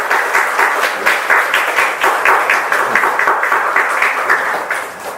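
A church congregation applauding a young man just back from military service, steady clapping from many hands filling the room throughout, with no talk over it.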